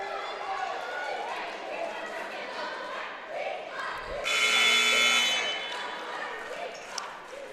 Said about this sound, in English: Buzzer sounds again.